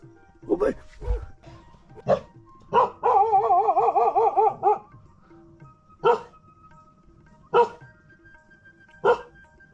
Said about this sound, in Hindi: क्योंकि कुत्ता लगातार भौंक रहा है बहुत तेज़।